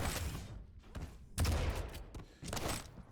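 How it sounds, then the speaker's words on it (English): Rocket launcher blasts and nail gun fire during a competitive Quake-style arena match, a dense run of loud booming shots and rapid bursts in close succession. "Oh, what a great trap, great rockets. cYpheR only working with the nail gun."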